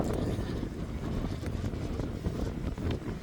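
Strong wind blows outdoors, buffeting the microphone with a steady, dense low roar that continues unbroken for the whole stretch, with no talking.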